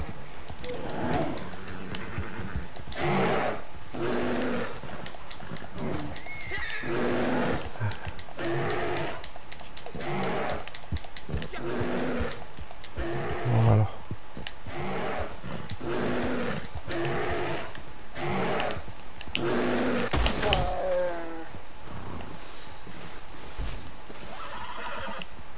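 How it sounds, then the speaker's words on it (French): A horse in the video game Red Dead Redemption 2 whinnies repeatedly in loud, rhythmic bursts, with thudding hooves and clip-clop steps running beneath, plus one heavy impact near the end. "Voilà, c'est bien mon cheval."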